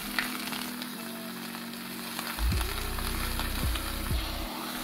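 Steady sizzling of meat searing in a hot pan, with a few low scraping or shifting sounds of the meat being moved partway through.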